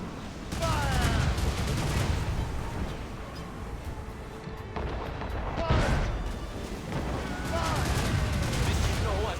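Ship cannon fire in Assassin's Creed Rogue, with heavy booming volleys amid continuous battle noise and crew shouting, the blasts dense and rumbling rather than cleanly separated.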